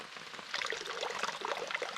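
Water from a garden hose pours steadily into a goldfish pond outdoors, a close, continuous splashing trickle at a fairly strong flow, with no talk over it.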